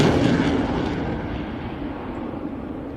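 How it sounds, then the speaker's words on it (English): A delta-wing jet roars at an air show under full reheat, a loud, dense, continuous rumble that slowly fades a little as it flies through a double corkscrew at 9G. "Into a double corkscrew with full reheat on, maintaining that 9G all the way around."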